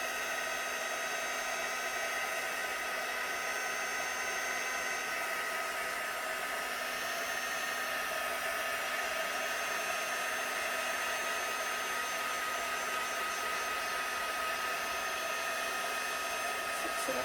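A heat tool blows steadily for the whole stretch, drying watercolour over a heat-embossed tree image; a constant close airy whoosh with a high whine, no pauses.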